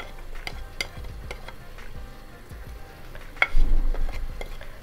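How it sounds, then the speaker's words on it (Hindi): Spices such as turmeric, dried coriander powder and salt roast in a pan for a dhaba-style mixed vegetable dish, with scattered spoon scrapes and clinks over a soft sizzle that swells louder near the end. "अब हम ये सारे मसाले अच्छी तरह भून लेंगे"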